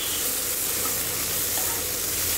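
Pork stir-fries in a hot pan, a loud unbroken sizzle and hiss with faint scraping of a spatula, steady throughout with no voices.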